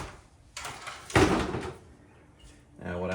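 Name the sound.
2014 Toyota Highlander door panel being set aside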